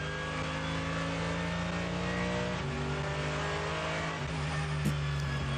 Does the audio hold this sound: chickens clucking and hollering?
no